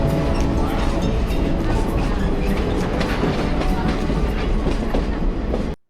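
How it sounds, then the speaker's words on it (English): A scenic excursion train on the Verde Canyon Railroad rumbles loudly along the rails with continuous rhythmic clatter and rolling noise, then cuts off abruptly at the end. "we are climbing aboard the legendary Verde Canyon Railroad"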